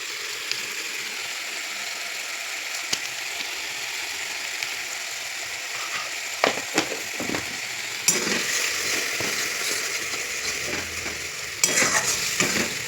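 Potatoes and eggs frying with ground turmeric, salt, chili and cumin in a pan, a steady sizzle under occasional scraping strokes of a spatula, with a few louder clattering stirs near the middle and end.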